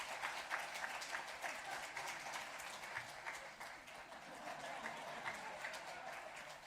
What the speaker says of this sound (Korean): 박수로 한번 격려할까요?